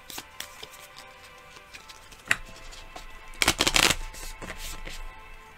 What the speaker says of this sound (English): I have 1 to draw, so I shuffle before finishing my draw.